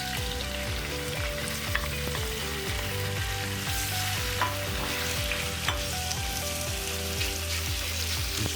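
Beef strips sizzling in vegetable oil in a hot cast iron skillet for a Mongolian beef stir fry, a steady loud crackling fry with occasional scraping stirs and no talk.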